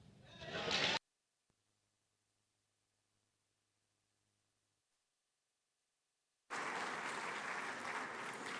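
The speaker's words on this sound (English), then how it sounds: "a resounding round of applause to celebrate such a gallant expression of joy" An audience at the 2023 Afreximbank Annual Meetings applauds in a dense, steady burst that cuts off abruptly into near silence, then resumes just as loud and sustained several seconds later.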